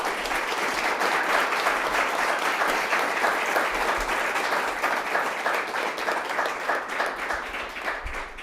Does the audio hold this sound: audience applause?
yes